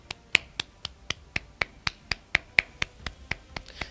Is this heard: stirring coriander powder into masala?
no